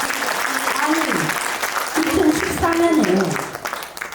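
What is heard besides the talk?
audience applause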